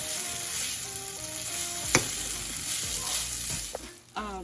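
Saimin noodles fry in a non-stick pan with a little seasoning from the packet, a steady close sizzle under a few soft stirring scrapes and one sharp clink, no one talking.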